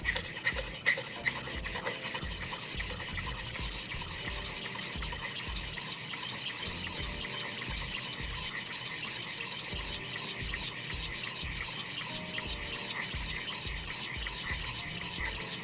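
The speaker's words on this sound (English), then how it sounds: "Now I turn it over, gentle pressure, the spine and the edge flat on the hone," A straight razor is honed on a Norton 1000 grit whetstone, giving a steady run of close, rasping back-and-forth strokes in an even rhythm, with no one talking.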